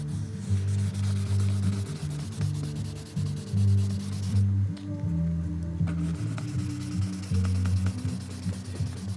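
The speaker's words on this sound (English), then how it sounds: "it allows me to get a little bit of maybe 1/8 of an inch of the fuselage sanded" Steady sanding of a model airplane fuselage, a continuous close rubbing hiss with a low rhythmic back-and-forth pulse and a brief pause midway.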